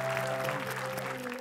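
Studio audience applause after a performance on a televised talent show, steady clapping throughout, with a sustained musical tone and some voices underneath.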